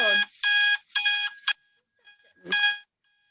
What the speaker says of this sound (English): Sounds like an alarm clock.